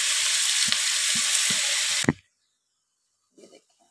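Chicken frying with kadai masala and garlic ginger paste in a pan, a loud steady sizzle with stirring knocks that stops abruptly, followed by a short quiet clatter.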